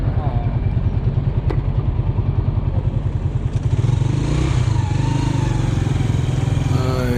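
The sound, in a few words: Honda 125 motorcycle engine at Iran border checkpoint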